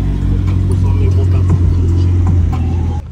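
Volkswagen car engine idling and rumbling with a hollow, odd tone, steady and close at a car meet, then cutting off abruptly near the end.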